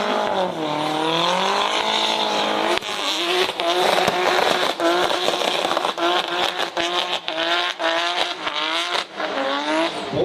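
Drift cars at an SRD Drifting the Plains event spin and slide with sustained, wavering tire squeal over screaming engines, loud and continuous with occasional sharp bursts as the cars skid through the course.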